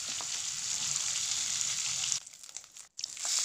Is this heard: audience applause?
no